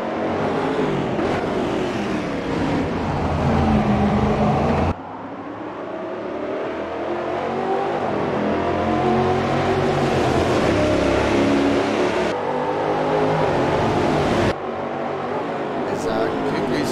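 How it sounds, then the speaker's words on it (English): Race cars battling for the lead through a twisty section of track, engines droning and revving loudly with shifting pitch throughout, under an excited commentator's voice. "But looking now at Gunner, putting a lot of pressure on for the lead of the race."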